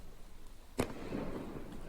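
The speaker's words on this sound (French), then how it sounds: "Ouais, feu d'artifice, carrément." One sharp firework bang cracks out during night rioting in Argenteuil, then a rumbling echo trails off. The whole burst is faint and distant.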